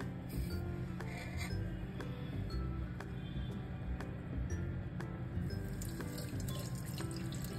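Homemade amla hair oil trickles as it is strained, a steady soft pouring with light intermittent clinks of a metal or glass vessel throughout, no talk.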